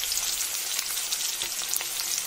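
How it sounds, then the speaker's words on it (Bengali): Onions fry in oil for a Bangladeshi-style sardine fish curry, giving a loud, dense, continuous crackling sizzle with no pauses and no talk. "পেঁয়াজটাকে ভেজে নেব। একটু হালকা হালকা লাল করে ভাজবো।"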